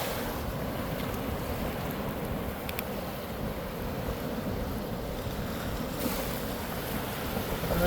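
Surf rolling in on a Florida beach, a steady wash of waves with wind buffeting the microphone, moderately quiet and continuous with a slight swell near the end, no talking.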